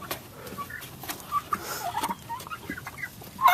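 A hen clucks on a small farm in Homestead, Florida, several soft, scattered clucks fairly close over a faint outdoor background, no voices.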